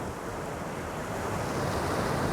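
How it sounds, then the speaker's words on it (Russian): Tidal water pours steadily over a dam at Ria de Alvor in the Algarve, Portugal, a continuous broadband rush with wind buffeting the microphone and no talk. "вот здесь с дамбы очень активно происходит переток воды во внутреннюю часть"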